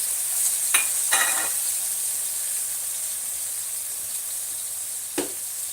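Garlic in hot oil for fish sarciado gives a constant soft hiss, broken by a few sharp stirring clatters near the start and one near the end.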